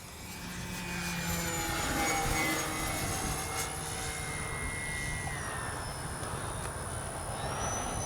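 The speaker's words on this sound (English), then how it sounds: "let's do a nice low and fast pass into the wind." A radio-controlled FMS PC-21 Pilatus jet trainer model makes a low, fast pass, giving a steady whine with shifting pitched tones, outdoors at a moderate distance and fairly faint, with no talk.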